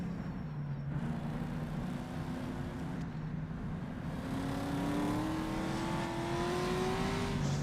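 Race car engine at the Targa Florio in the rFactor racing game, a steady droning whine that climbs gradually in pitch as the car accelerates, continuous and close throughout.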